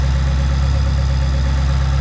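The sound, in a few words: 2022 Ferrari Roma engine idling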